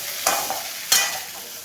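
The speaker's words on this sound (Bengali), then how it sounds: "তো আমি আদা বাটা দিয়ে ভালো করে একটু জল দিয়ে কষিয়ে নিয়ে নিচ্ছি।" Ginger paste is sautéed with a little water in a pan, giving a steady soft sizzle broken by two brief stirring scrapes, close up with no talking.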